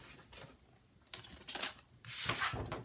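Scissors cut through a cardboard file folder being made into a journal cover, making a few faint, close snips and rasping slices in short bursts against a quiet room.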